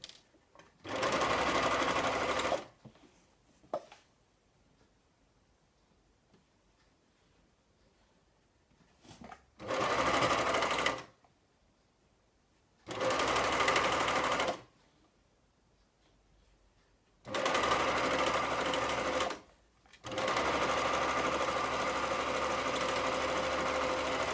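Serger overlock machine sewing and trimming the fabric edge of a snood with its knife, four loud sustained whirring bursts separated by quiet pauses, a final long run to the end, no talk.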